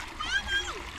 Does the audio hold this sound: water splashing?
yes